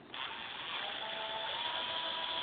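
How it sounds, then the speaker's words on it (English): A handheld power tool whirring as it backs screws out of a computer case, with a sharp onset then a steady, even buzz sustained to the end. "in order to save a little bit of time, I got my power tool here"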